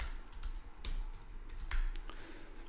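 Keys on a computer keyboard are tapped in a short, uneven burst of soft clicks, close up and fairly quiet, with no voices.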